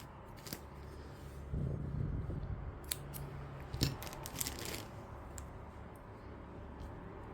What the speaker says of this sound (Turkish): Şöyle şimdi bu ipten uzunca bir ip keseceğim.